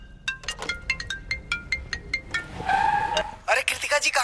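A phone ringtone chirps in a rapid repeating pattern inside a shared cab, fairly close, followed by a louder burst of electronic tone and clatter as the ringing continues.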